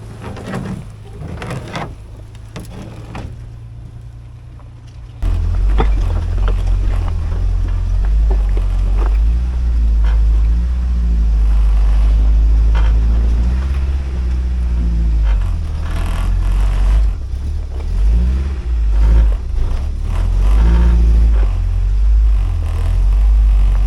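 An underpowered off-road vehicle's engine strains on a rocky trail with the clutch ridden to keep it from stalling, a loud continuous low rumble that surges and wavers, with knocks and clatter early on.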